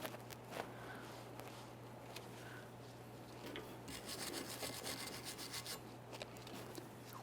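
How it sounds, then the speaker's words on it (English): A flat blade screwdriver lightly scuffs debris from a front brake caliper bracket on a 2015-2019 Subaru Outback, giving faint, repeated scraping strokes under a low steady hum. "I'm just using a flat blade screwdriver, and I'm giving this a light scuffing, removing any miscellaneous debris"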